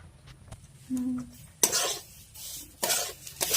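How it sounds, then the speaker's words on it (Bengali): Semolina being fried in a pan gets stirred with a few loud, close scraping sweeps of a spoon against metal, preceded by a quieter stretch with a faint hum. "এই দেখো সুজিটাকে ভাজছি"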